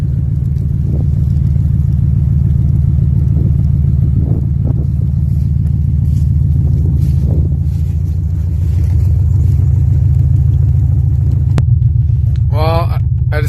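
A Cadillac's engine rumbles low and steady on a snowy day, a deep continuous idle close by with a voice talking over it and a brief rattle near the end.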